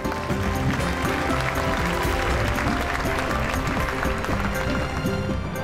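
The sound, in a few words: audience applauding dance performance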